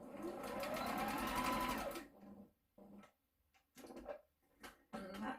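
Sewing machine running a short burst of stitches to box-stitch elastic, a quick rattling whir close by for about two seconds, followed by quieter intermittent handling taps and brief spurts of the machine.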